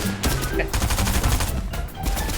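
Rapid gunfire in Fortnite, dense bursts of repeated shots filling the whole moment, loud and close, with excited voices talking over it.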